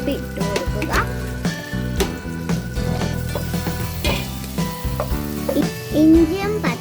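Ginger, green chili and garlic sauté in a pan with a pinch of salt, a steady sizzle with stirring scrapes running under louder background music for the whole stretch.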